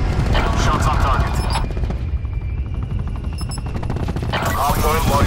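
Rapid automatic gunfire from Call of Duty: Black Ops 4 multiplayer, loud and continuous with dense bursts of shots and booming impacts throughout.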